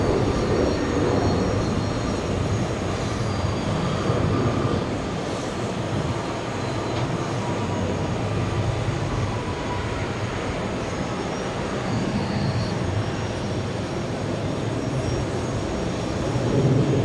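A UPS Boeing 767 cargo jet at JFK airport produces a steady, loud engine roar that holds for the whole stretch, with broad rumble and no talk over it.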